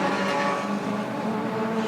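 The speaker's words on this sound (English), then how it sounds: "RX-7s with various engines coming down the main straight now" Several race cars, Mazda RX-7s with assorted engines among a field of OSCA Super Saloons at Ruapuna, roar down the main straight as a sustained, loud engine drone with shifting tones.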